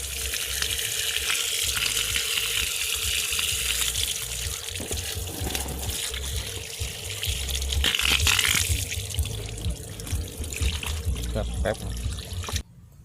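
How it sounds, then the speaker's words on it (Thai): Tap water runs steadily into a container being filled for a homemade drip irrigation waterer, a continuous broadband rush lasting about twelve seconds before stopping abruptly, with faint background noise and no talk. "ก็เปิดน้ำใส่เลยนะครับ เต็มเลยนะ"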